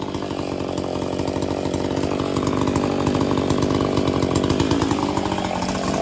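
A stock Husqvarna Rancher chainsaw with a muffler mod, unported, runs steadily at high revs, its loud buzzing engine note held close and constant throughout.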